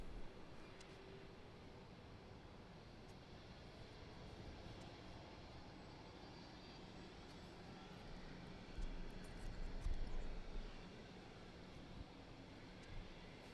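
An Ethiopian Airlines Airbus A350 taxis out past the Boeing hangar near the control tower at Gatwick Airport. Its engines give a distant, steady broadband roar that swells slightly toward the end.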